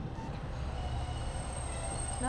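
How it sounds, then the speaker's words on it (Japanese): A Moka Railway train pulls into Mashiko station in Japan, its steady rolling rumble building as it arrives, ending with rising brake and wheel squeals close by. "なんかすごくかわいい電車が来ましたね。"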